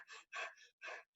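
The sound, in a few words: imitated nervous breathing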